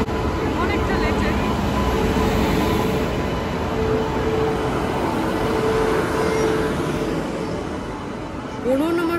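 The Howrah Rajdhani Express (12306) pulls into a station platform, a loud continuous rumble and clatter of wheels on rails with faint voices around and a brief metallic squeal near the end.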